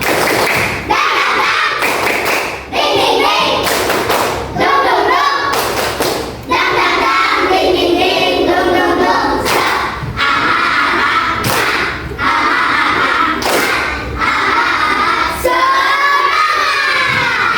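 Second-grade primary school class in Indonesia performing a rhythmic spirit clap chant, loud thumping claps in a steady repeating pattern with children's shouting voices, energetic and close throughout.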